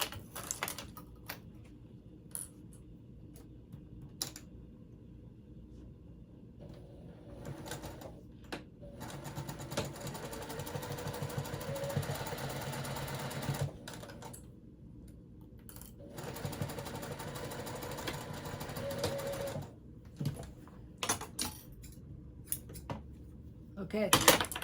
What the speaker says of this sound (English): so I'm going to sew right here